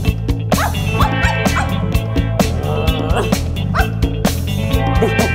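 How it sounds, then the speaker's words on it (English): Woof woof dog barks in a children's song about acting like a dog, short yips and bow-wows landing in rhythm over upbeat music and singing; the barks may be voiced by the singers. "act like a dog and go woof woof"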